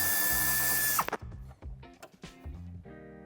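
A power tool whirs and stops in short bursts while removing Torx screws from the bumper of a 2021 Peugeot 308 III SW, loud and close, with clicking and rattling between runs and no talk.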